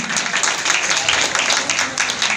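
A crowd at a business motivational event applauding, a dense, fairly loud patter of many hands clapping steadily for a couple of seconds.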